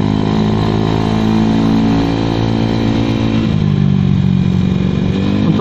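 A Honda Vario 110 carburetted motorcycle with a standard racing exhaust idles and putters steadily, a deep continuous engine drone heard up close with a slight dip in pitch partway through.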